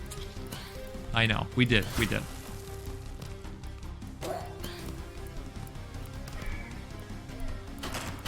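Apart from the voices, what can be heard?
goat companion sounds in video game Below The Stone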